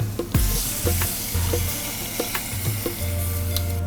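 Tamarind water goes into a hot pan of chopped tomatoes for Onam-style rasam, giving a loud, steady sizzle and bubbling with scraping stirs throughout, close by and alone.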